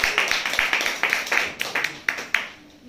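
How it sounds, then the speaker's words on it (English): A handful of people clap for a guest at a small gathering in Singapore, the claps sparse and uneven rather than a full ovation, with distinct individual slaps spread across three seconds that trail off at the end. "Can you give him a clap?"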